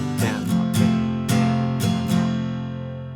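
Acoustic guitar strumming the opening chord line of a song, several full chord strokes in a down-up pattern ringing out close and clear with no voice.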